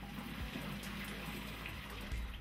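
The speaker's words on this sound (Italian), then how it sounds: "Ma non la scoliamo del tutto, lasciamo la pasta con un po' d'acqua di cottura in fondo." Cooked pasta for cacio e pepe being drained, with cooking water pouring and splashing steadily at close range, broad and continuous with a few heavier gushes, no talk.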